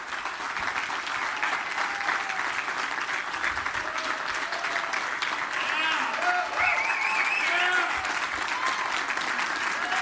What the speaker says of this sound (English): some of the press was actually clapping